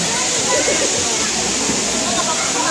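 Water rushes down Daranak Falls in a constant, full roar that fills the whole stretch, with a faint voice mixed into the churn.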